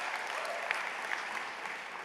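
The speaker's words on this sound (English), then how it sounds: "give yourselves a round of applause" Graduates at a high school commencement ceremony applaud themselves, with a steady, even wash of many hands clapping at a distance in a large venue.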